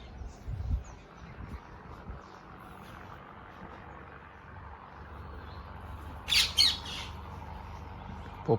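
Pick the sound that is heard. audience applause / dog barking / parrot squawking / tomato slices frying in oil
parrot squawking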